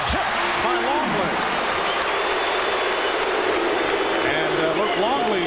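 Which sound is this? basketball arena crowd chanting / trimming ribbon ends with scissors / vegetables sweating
basketball arena crowd chanting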